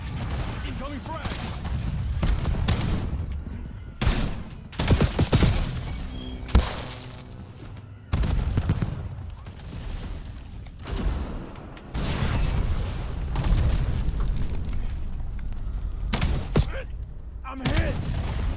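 Video game gunfire crackles in bursts alongside the heavy boom of a frag grenade explosion, all loud and dense, with voices talking over the combat.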